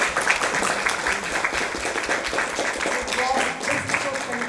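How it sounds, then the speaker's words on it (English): Schoolchildren and audience clapping after an intra-school quiz competition, a lively steady round of applause at moderate loudness with scattered voices mixed in. "I want a huge round of applause to all of you"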